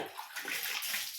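Water splashing and sloshing across a house floor as it is washed in a village home, a steady, fairly quiet broadband wash with no talking.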